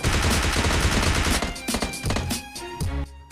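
Rapid automatic gunfire from PUBG Mobile Lite, sustained loud bursts for the first second and a half, then shorter volleys and scattered single shots with no talk.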